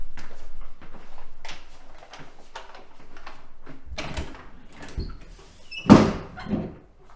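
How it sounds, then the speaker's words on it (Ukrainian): A closed, locked door is tried: its handle and frame rattle in scattered knocks, then a louder thump, with no voices. "Я думаю, ці двері зачинені, Роуене."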